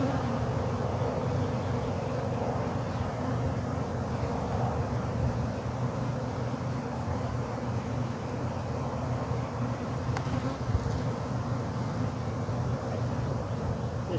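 Honey bees swarm around an opened hive during a split, a dense continuous buzz holding steady throughout, fairly close, with no speech.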